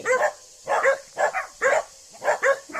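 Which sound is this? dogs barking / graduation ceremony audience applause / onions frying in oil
dogs barking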